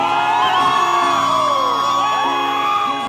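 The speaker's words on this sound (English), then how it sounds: "Everyone at the wedding then started to cheer." Wedding guests cheer during the newlyweds' first dance, a loud sustained crowd roar with whoops and high-pitched shouts rising and falling throughout.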